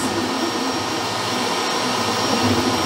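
A Creality K1 Max 3D printer runs its first print, a loud steady whirring drone of fans and motors with a rough vibrating buzz underneath, continuous throughout.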